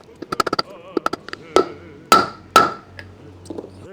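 A socket tapped with a hammer to push a front wheel bearing into a Vespa PX hub, several sharp metallic knocks, a quick run of taps followed by heavier spaced blows, close and clear.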